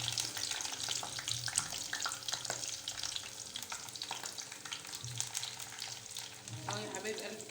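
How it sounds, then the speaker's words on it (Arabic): Eggplant fries in a pan with a loud, close, continuous sizzle, broken by bursts of stirring and spatula scrapes and faint clatter, with no speech. "نقلي الباذنجان اهو يا حبايبي"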